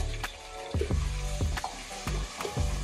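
Onion, garlic, ginger and tomato gravy paste sizzling in hot oil for dum biryani, a steady close frying hiss broken by rhythmic stirring scrapes about every half second.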